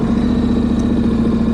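A Honda motorcycle engine idling steadily, a close, loud, even low hum with a constant pulse and no revving.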